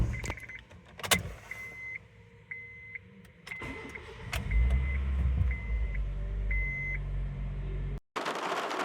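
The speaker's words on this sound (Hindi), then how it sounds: "अब हम चलते हैं और गाड़ी को स्टार्ट करते हैं।" A Honda Airwave is started after a CVT mount replacement: door and cabin clunks, repeated warning beeps, then the engine cranks and catches into a steady close idle, which cuts off abruptly.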